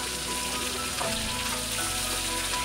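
Crushed garlic sizzles in hot oil just used to fry prawns for a Bengali potato-prawn curry: a loud, steady, close crackling fry that runs unbroken with no voices.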